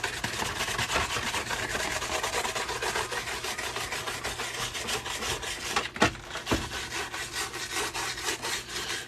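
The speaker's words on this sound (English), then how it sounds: "I like sanding with this because it does help sand, but it also causes some decent scratches." Power sanding tool working over a Darth Vader mask, a steady rasping buzz with rapid rhythmic scratching, close and continuous, with a couple of sharper scrapes near the end.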